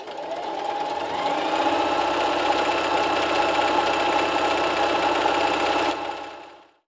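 A sewing machine stitches a fabric mask lanyard in one steady, continuous whirring run, close and fairly loud, winding down at the end.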